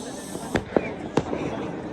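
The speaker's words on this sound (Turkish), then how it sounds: "Görüyorsunuz her yerde havai fişek patlıyor." Fireworks bursting across a town during a Newroz celebration in Akre, Kurdistan, with three sharp, fairly close bangs spaced irregularly over a steady crowd hum and background chatter.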